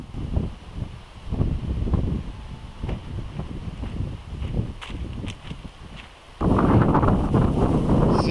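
Gusting outflow wind from a storm cell in a squall line over the Southern Tablelands of New South Wales buffets the microphone in uneven rushes, then rises into a heavier sustained roar near the end.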